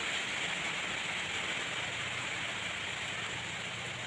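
Steady rain falls on a gloomy morning, a constant, even wash of noise with no pauses or voices.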